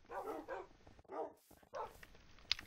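Puppies barking in a video game, a few short yappy barks in quick bursts separated by pauses, fairly faint and close.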